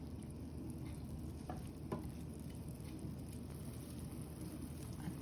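Carrots being stirred in a frying pan over a home stove, a soft continuous sizzle with faint scraping of the spoon and a couple of brief clinks, low and steady with no talk.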